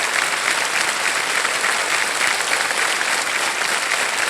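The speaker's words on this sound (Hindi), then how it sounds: "तालियां बजती रहें इनके लिए देवी और खिदमत" Sustained, loud applause from the studio audience of the Kaun Banega Crorepati quiz show, a thick, even roar of many hands clapping that holds steady for several seconds.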